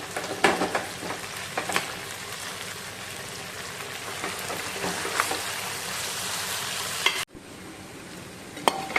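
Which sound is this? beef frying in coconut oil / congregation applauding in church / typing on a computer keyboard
beef frying in coconut oil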